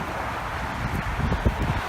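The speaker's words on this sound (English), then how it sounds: "It's very windy here." Strong wind buffets the microphone in a steady low roar at Cobbler Creek, with a few louder gusts near the end.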